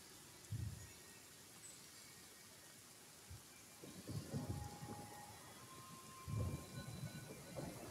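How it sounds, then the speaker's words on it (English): Steady rain patters quietly across the scene in Genshin Impact while several low, muffled rumbles of thunder roll in and out at a distance, faint overall with no voices. "I think the rain is really nice"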